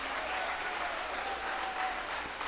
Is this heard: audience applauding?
yes